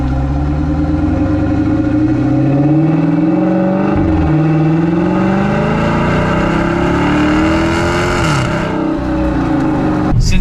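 A Dodge Challenger with mid-muffler delete and Dynamax race bullet exhaust revs hard, its deep engine note climbing and falling in repeated loud, close sweeps, with no talking.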